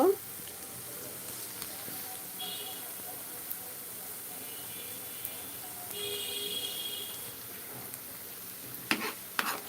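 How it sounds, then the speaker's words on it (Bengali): Onions frying in a pan until golden while chicken bhuna is cooked, giving a faint, steady sizzle that runs quietly throughout, with a few soft clinks near the end. "পেঁয়াজটা একটু ভালো করে ভেজে নিচ্ছি গোল্ডেন কালার না হওয়া পর্যন্ত পেঁয়াজটা ভেজে নেব"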